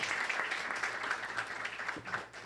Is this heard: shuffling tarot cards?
no